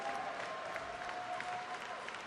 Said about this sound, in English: Give him another huge round of applause.